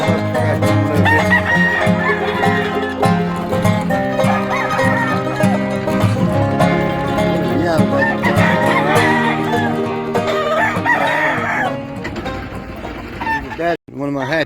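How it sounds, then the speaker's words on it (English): Kelso roosters on an Oklahoma farm crow and cluck in a dense, continuous, loud chorus of overlapping calls for most of the stretch, easing off toward the end. "That's a Kelso cock."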